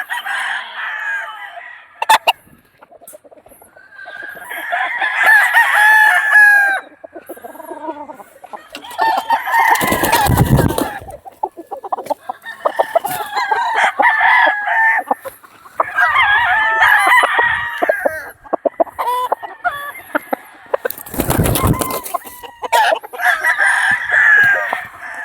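Gamecock stags at a breeding yard crow loudly and cluck repeatedly, several roosters calling near and far in overlapping bursts, with two sharp crows standing out above the steady clucking.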